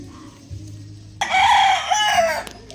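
Gray gamefowl stags crow in a backyard, one loud nearby crow rising and then trailing off after a quiet start, with faint farmyard background and no talk.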